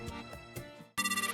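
A telephone rings for an incoming call with a bright, rapidly pulsing electronic ringtone that cuts in abruptly after background music and carries on loud to the end.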